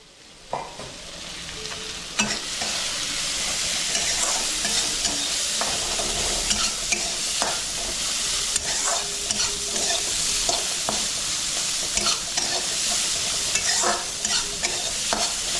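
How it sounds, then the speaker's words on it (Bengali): Chopped onion fries in a pan with a loud, dense, continuous sizzle, broken by frequent scraping and stirring clatters of a spoon against the pan. "তো এখন আমি দিয়ে দেবো পেঁয়াজ কুচি।"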